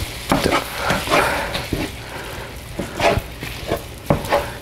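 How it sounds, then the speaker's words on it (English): Ground beef browning in a pan, sizzling steadily with periodic scraping and stirring strokes, close and fairly loud with no talk over it. "while this ground beef is browning"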